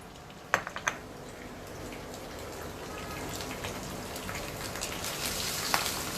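Fried onions dropped into melted ghee give a steady, close crackling sizzle with scattered pops and spits, growing slightly brighter toward the end, with no talking.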